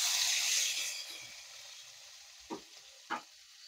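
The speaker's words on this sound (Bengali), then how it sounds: "এই দেখো ভেন্ডি ভাজতে দিয়ে দিয়েছি" Okra frying in a pan in a home kitchen gives a soft, steady sizzle that fades over the first second, then two short louder clatters of stirring follow.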